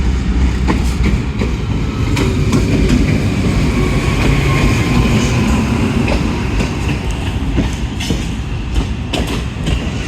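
Jaffar Express, led by locomotive 6419, passing through Taxila Cantt junction station at slow speed, a loud continuous rumble of rolling railcars with rhythmic clickety-clack of wheels over rail joints throughout.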